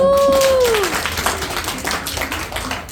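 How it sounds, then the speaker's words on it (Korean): An audience at a seminar presentation claps together in a dense, steady patter for a member who earned a Marrakech trip, opening with a brief rising whoop of a voice before the clapping carries on evenly. "네, 박수 한번 보내드립니다."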